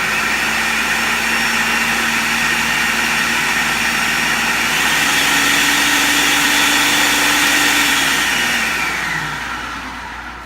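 Blender running on tahini and lemon for hummus, a loud, steady motor whine with a shifting pitch partway through, then the motor winding down near the end, with no one talking.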